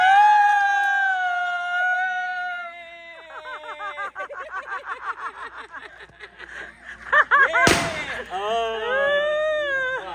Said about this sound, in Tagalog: Sino mas maganda paputok?